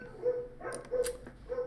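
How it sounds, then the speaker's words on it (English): Several dogs indoors give short, moderately faint yips and barks in a few quick bursts, with quiet gaps between them. "Apologize for my dogs, they're kind of going crazy right now."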